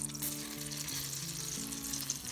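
Paprika fries in melted butter in a pan, a soft, close, continuous sizzle with a light bubbling hiss, steady throughout the brief moment with no voices.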